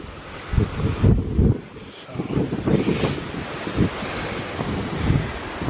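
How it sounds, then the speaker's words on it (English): Wind gusting across the open top of Whitbarrow Scar on a hillside ramble, buffeting the microphone with loud rushing noise that rises and falls throughout, with no voices. "A bit windier here."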